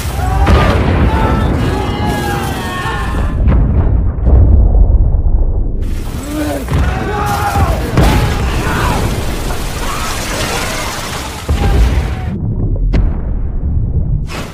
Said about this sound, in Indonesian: akibat api yang dihasilkan dari ledakan pertama membuat semua torpedo meledak